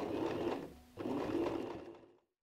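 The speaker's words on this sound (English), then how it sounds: "turn your stitch length to medium and just sew a straight stitch" A sewing machine running a medium-length straight stitch through fabric, a dense close mechanical whirr in two bursts split by a brief pause, then stopping.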